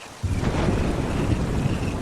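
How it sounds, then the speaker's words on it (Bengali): Thunder booms in a storm on a squally nor'wester night, starting abruptly and rolling on as a loud, continuous low rumble with no voices. "এই কথার মাঝে আবার বাজ পড়ল দূরে কোথাও"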